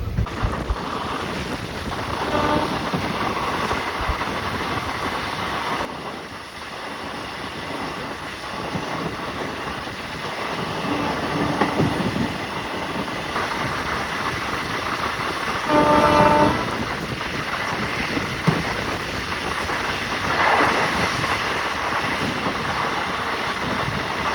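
Kuvempu Express passing on the Shivamogga–Hassan–Mysuru line beside a goods locomotive waiting at a signal, with steady rolling wheel and wagon rumble, wind buffeting the microphone, and a short horn blast around the middle.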